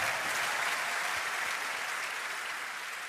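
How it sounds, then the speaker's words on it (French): A large crowd at the ESAF Mollis Swiss wrestling festival cheers and applauds in a dense, steady roar that fills the whole stretch and slowly fades slightly, with no voices standing out. "alors qu'on entend la foule"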